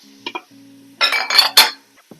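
Onions being stirred in oil inside an Instant Pot, with a couple of light metallic clinks, then a burst of scraping and clattering of a utensil against the pot, ending in a single soft knock.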